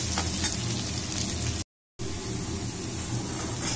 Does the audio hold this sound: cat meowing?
no